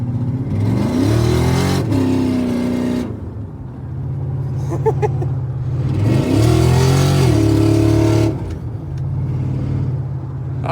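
A car engine revs hard while driving, rising and falling through two long pulls separated by a quieter, steadier stretch. The engine is loud and close, with a voice speaking briefly between the revs.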